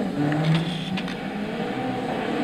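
Turbocharged 2-litre 16-valve Subaru Impreza WRX Wagon STi rally car from 2000 driving on dirt in Gran Turismo 6, its engine a steady, moderately loud drone with faint crackle and no talk.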